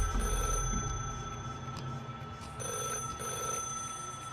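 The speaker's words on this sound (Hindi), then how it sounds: "अनु को एक लैंडलाइन के बजने की घंटी सुनाई दी" A landline telephone bell rings steadily and fairly close in a cartoon store room, its bright tones carrying unbroken over a low background rumble.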